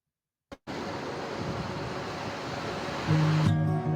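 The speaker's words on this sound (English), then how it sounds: "in the midst of displacement, come with us to see Karam playing in the sea" Sea waves wash steadily on a beach in the Gaza Strip, a broad continuous rushing roar after a brief click at the start, with a tonal hum entering near the end.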